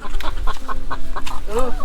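Chickens cluck close by on a farm in short, choppy bursts, one after another, with a few rising squawks near the end.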